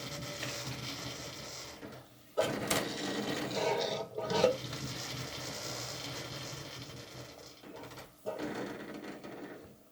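Fuel drains from a dirty carburetor's tank, pressurized with compressed air through a small hole in tape over the filler, giving a steady hissing, rushing flow close by, with brief breaks and a few louder surges.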